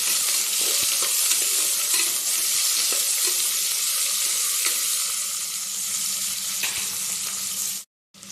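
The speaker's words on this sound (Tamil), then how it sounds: "இது போட்டு நல்லா கோல்டன் ப்ரௌன் வர வரைக்கும் வறுத்துக்கலாம்" Sliced onions and green chilies fry in oil for tomato pongal, a loud continuous crackling sizzle with faint stirring, close up, cutting off abruptly near the end.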